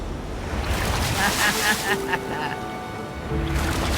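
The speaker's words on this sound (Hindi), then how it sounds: "ओके, ये आई बड़ी लहर।" A big ocean wave rolls in and crashes near a rocky island shore, a loud sustained surf wash with wind noise buffeting the microphone, while people talk over it.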